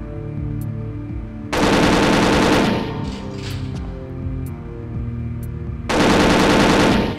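Automatic gunfire in the video game Perfect Dark comes in two loud, close bursts of rapid shots, with quieter game ambience and a few faint sharp clicks between them.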